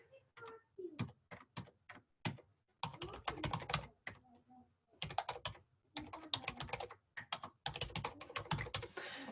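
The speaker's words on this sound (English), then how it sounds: "I will share this with that particular buyer by typing in their name, Ann Baldwin" Fingers type on a computer keyboard in quick bursts of sharp key clicks, broken by short pauses, close and fairly quiet, with some faint voice in the background.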